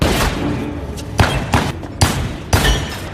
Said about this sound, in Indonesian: Dan adu tembak pun terjadi.